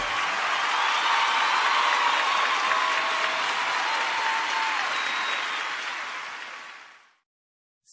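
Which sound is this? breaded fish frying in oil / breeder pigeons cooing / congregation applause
congregation applause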